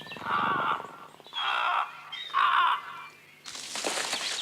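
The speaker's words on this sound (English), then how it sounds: "It was the call of the crow." Three harsh cawing calls of a crow in a slow, evenly spaced sequence, moderately loud, followed by a brief rush of noise.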